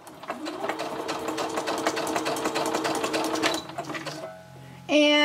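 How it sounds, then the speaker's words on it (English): A home sewing machine stitches a few zigzag stitches and then a straight stitch on a scrapbook page, a rapid, even clatter of needle strokes that stops near the end before a short louder burst. "I'll do a little bit more zigzag here. Just a couple stitches."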